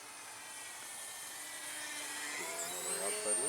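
Small R/C Depron park flyer plane flying a loop, a thin high electric-motor whine that swells and shifts pitch as it comes around, faint and steady, with a voice talking briefly underneath.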